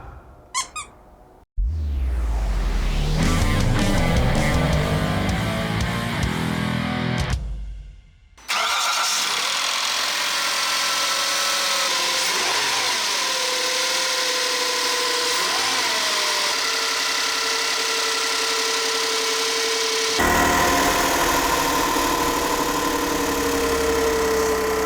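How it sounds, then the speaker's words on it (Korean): A 2011 Hyundai Grandeur HG cranks and starts with a whirring squeal, cuts out briefly, then fires again and settles into a steady close idle carrying a whining, uneven tone, with no one speaking over it. "엔진 소리가 좀 이상한데?"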